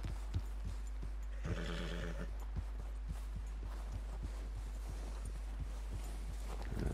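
In Red Dead Redemption 2, a horse clip-clops at a steady walk through a constant low ambient hum, its hoofbeats soft and evenly spaced, with a brief whinny near the start.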